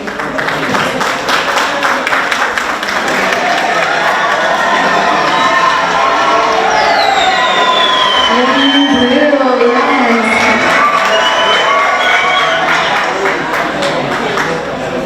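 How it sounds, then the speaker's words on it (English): A crowd at a Filipino American community ribbon-cutting event in Los Angeles claps and cheers continuously, with dense applause, whoops and children's shouts over a loud, sustained wash of noise. "Round of applause, everybody."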